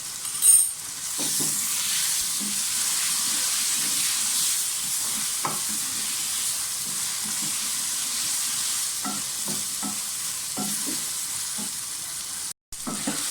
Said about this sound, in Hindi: सब्जियाँ फ्राई होते टाइम आप इसमें जीरा डाल दें